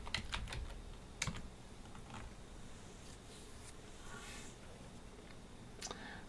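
Someone types on a computer keyboard while entering a search in LibreOffice, producing sparse, faint key clicks in short clusters over a soft background hum.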